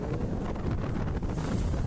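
Strong sea wind roars steadily across the microphone, a constant low buffeting rush with a faint watery wash beneath it.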